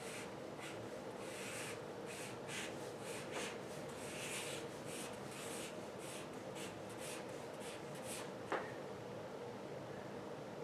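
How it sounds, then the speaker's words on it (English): A pen writes notes by hand on paper nearby. The faint, rapid scratching strokes come in short rhythmic bursts over a quiet room background, with no talking. "I'll go ahead and write this down for you really quickly"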